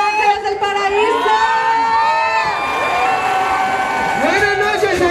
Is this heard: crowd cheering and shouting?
yes